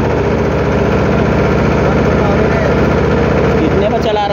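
A Mahindra Jivo 225 DI tractor engine runs at steady RPM while sowing a field, a loud, close, rhythmic diesel chug that holds constant throughout, with a voice talking faintly under it.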